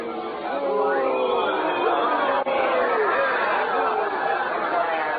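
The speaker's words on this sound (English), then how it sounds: "They're cheering him." A crowd cheers and clamours in the streets as a staged radio-drama effect, a dense, continuous babble of many voices holding at an even level throughout.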